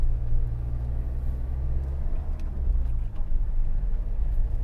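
A car engine pulls in first gear on a narrow road in South Wales, giving a steady, loud, low rumble that holds throughout, close to the cabin.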